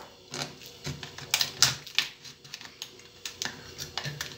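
A blade cuts and snips at a fruit tree stake being prepared for grafting, a series of close, short, crisp scraping clicks and snaps at an irregular pace.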